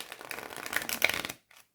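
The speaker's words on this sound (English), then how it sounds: "Now let's see about riffle shuffling." Stiff new Somnia Tarot cards riffle shuffled in one quick, close burst of fluttering clicks, followed by a short soft tap as the deck settles.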